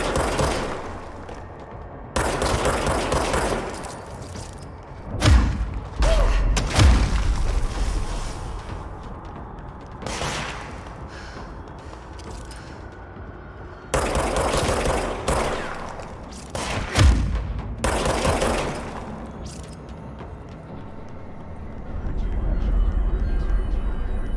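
Gunfire in the video game Control, rapid bursts of shots in several separate volleys with quieter gaps between them, loud and close, while someone talks over the action.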